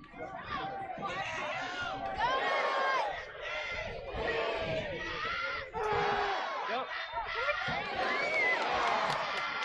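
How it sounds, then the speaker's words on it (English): A home stadium crowd at a 2018 SMU versus UCF college football game roars and shouts in rolling surges, loud and sustained, with chanting voices rising and falling throughout. "Crowd trying to ignite their team here in their home pitch."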